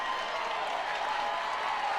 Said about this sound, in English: And the crowd is ignited on a foul ball.